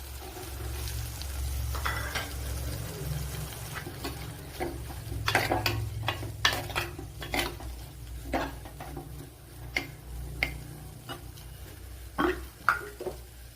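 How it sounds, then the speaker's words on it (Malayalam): Onion goes into a pan for sardine curry and is stirred as it sizzles. A low, steady frying hiss runs underneath faint scraping and tapping from a spoon against the pan, and no voice is heard. "ഇതിലേക്ക് കുറച്ച് സവാള ചേർത്ത് കൊടുക്കാം"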